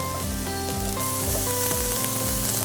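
Shrimp-and-toast prep stir-frying in hot oil in a Chinese kitchen, a loud, steady sizzle close up with bright crackle throughout and no talking.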